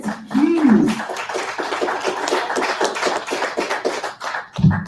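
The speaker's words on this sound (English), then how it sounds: "can we give an applause for Garrett Hughes?" Applause for a presenter at a live-streamed cybersecurity event, a scattered patter of hand claps that carries on steadily for several seconds at moderate volume, with a brief vocal sound near the start.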